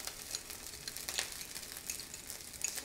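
Thai-style fried rice with soy sauce and sugar sizzles quietly in a hot pan, a soft, steady crackle with a few small bursts of spitting and no talking.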